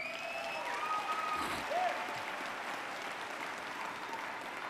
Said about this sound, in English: Can we give a big round of applause to Mr.